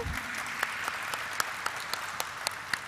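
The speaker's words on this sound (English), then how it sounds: "Can we begin this event with a huge round of applause, everybody?" An audience applauds at a company stock-exchange listing ceremony, a soft, even roomful of clapping heard from a distance, with a handful of crisp nearby claps popping out above the steady patter.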